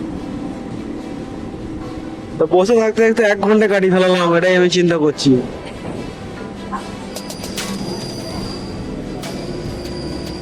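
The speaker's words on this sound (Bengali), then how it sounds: "দেখো ওই দেখো একটা ট্রেন আসছে" A train passes near a quiet village road, its wheels letting out a loud, sustained metallic squeal for a few seconds amid rumbling, while a person talks before and after.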